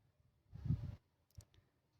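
A computer mouse clicks on a login option, a soft close tap followed by two brief clicks about half a second later in a quiet room.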